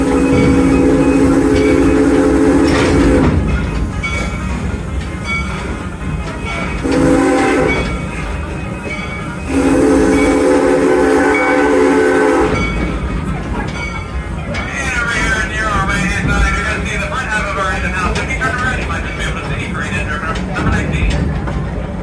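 An amusement park train at Kings Island rolls through a closed water park station, loud and close, with repeated sustained horn blasts over a steady rumble of wheels and cars.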